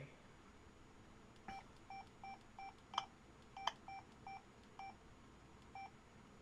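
Faint electronic beeps from a Yaesu handheld radio signalling an incoming caller on a live stream, a regular series of short tones with a couple of brighter clicks.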